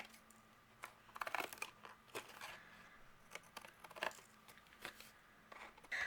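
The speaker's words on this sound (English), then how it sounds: "I'm going to use my scissors, and we'll flip it around and just trim off the excess." Scissors snip away excess paper on a handmade baseball-themed greeting card, giving a few quiet, close crisp cuts and crinkles spread unevenly across the moment with no talking.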